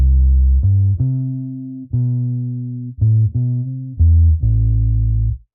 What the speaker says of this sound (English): probably my most used bass sound is the dub bass preset